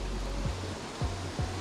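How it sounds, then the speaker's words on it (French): Steady broadband roar of a waterfall cascading into a pool at a fishing spot, loud and continuous, with a few low swooping thumps breaking through. "une cascade phénoménale"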